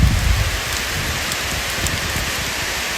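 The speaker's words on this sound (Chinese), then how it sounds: "看那大雨啊" Heavy rain pours down on a cliffside mountain path, a dense, steady hiss of rainfall close by with no talk.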